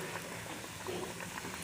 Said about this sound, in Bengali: এখন আমরা ফ্রেঞ্চ ফ্রাইটা ফ্রাই করব। ফ্রেঞ্চ ফ্রাইগুলো ছেড়ে দেব গরম তেলে।